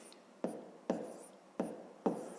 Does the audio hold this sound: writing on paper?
yes